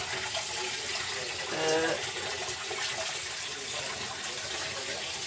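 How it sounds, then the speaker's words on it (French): Water rushes steadily through opened central heating circuits fed from a house's mains supply during a sludge-removal flush, a continuous loud hiss and gurgle with a brief swell, while someone speaks French over it. "je suis juste en train de faire un rinçage"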